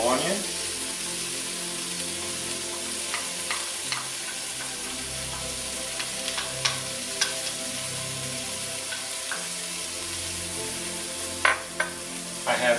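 Chopped yellow onion, carrot and celery fry in a pan with oil from browned meat, a continuous soft sizzle with intermittent stirring scrapes and occasional sharper clatters near the end.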